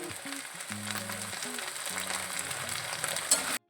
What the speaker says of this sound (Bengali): প্রায় এই তেলের মধ্যেই আমি আলুগুলো একটু ভেজে নিচ্ছি, একটু লবণ দিয়ে ভেজে নেব।